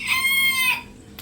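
A rooster crows once, a loud, close, drawn-out cock-a-doodle-doo that breaks off sharply at the end.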